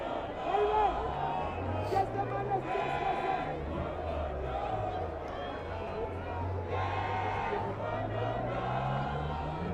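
Crowd noise from spectators on the far side of a rugby match between Tygerberg and UCT Ikey Tigers, a steady murmur of voices with rising shouts and cheering, loud and continuous throughout.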